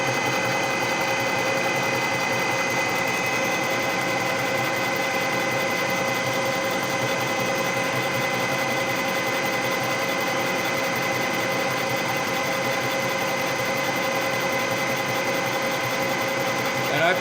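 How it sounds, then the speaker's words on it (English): A milling machine turns an 80 mm face mill at about 310 RPM, giving a steady, even mechanical drone with a constant high whine and fine vibration that holds unchanged throughout, with no talking over it. "I'm running about 310 RPM on this, and if I remember right, this is an 80 millimeter face mill."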